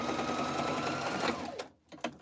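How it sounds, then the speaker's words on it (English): Sewing machine stitching soup bowl cozies cut with an Accuquilt die, a close, rapid, even stitching hum that runs for over a second before cutting off, followed by a few faint clicks. "We are sewing Soup Bowl Cozies here"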